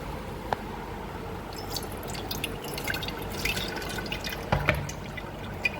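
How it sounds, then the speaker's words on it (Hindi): Ground grape juice sweetened with icing sugar is strained through a kitchen strainer. Close, irregular drips and small wet splashes trickle down, with a few louder plops near the end and no talking. "अब इसे छान लेते हैं।"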